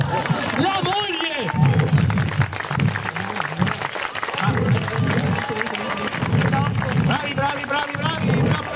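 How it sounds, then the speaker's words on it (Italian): Applause from an audience at a Corrida talent show in Castenedolo, a dense, loud wash of clapping that continues throughout with crowd noise, music and voices mixed in. "Bravi, un applauso!"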